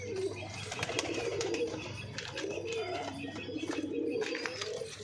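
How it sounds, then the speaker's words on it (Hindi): Punjabi Malwai pigeons kept for sale coo softly and repeatedly, their calls steady and fairly faint against a quiet background. "ये 10 परिंदे हैं जी, सेल वाले एकदम परंद कबूतर है जी"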